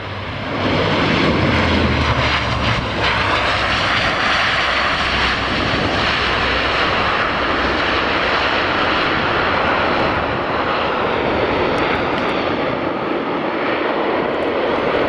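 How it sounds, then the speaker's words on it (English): Dash 8 turboprop airliner landing at Aberdeen Dyce Airport, a loud, sustained engine roar and broad rushing noise that holds steady throughout. "That's the Dash 8 just landed there."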